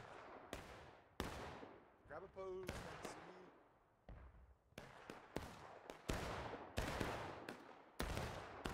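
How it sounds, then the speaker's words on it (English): Musket volleys from American Civil War soldiers in the shooter War of Rights crack repeatedly at long range, sharp reports with long echoing tails spaced irregularly a second or so apart, while someone talks faintly underneath. "I don't know why they're doing this long distance shooting thing"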